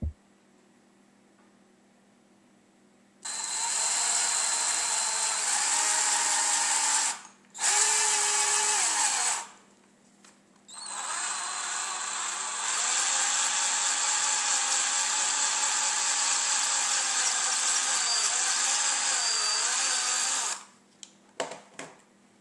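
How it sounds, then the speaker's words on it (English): A power drill bores a second hole through a wine-bottle cork, sized to fit a drinking straw. The whine runs loud and steady in three bursts with short pauses between, the longest lasting about ten seconds, and no one speaks. "Drill a second hole in the cork."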